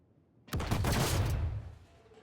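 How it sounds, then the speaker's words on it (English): Explosive red barrels in the Star Citizen alpha video game blow up in a sudden loud burst of rapid overlapping blasts that rumble for about a second, then fade into quiet. "I heard an explosion."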